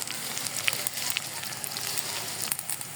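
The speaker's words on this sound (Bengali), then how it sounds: "দেখেন আমার পেঁয়াজ বেরেস্তা প্রায় হয়ে আসছে।" Chopped onion and a large garlic sizzle steadily in about half a cup of oil, frying toward brown for khichuri; a dense, even crackle close up with no voice over it.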